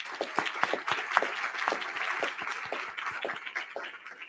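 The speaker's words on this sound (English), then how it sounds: "let's give Carol a round of applause" An audience at an arts forum applauds, a moderate, fairly steady patter of many hands clapping at middle distance for a few seconds with no voices.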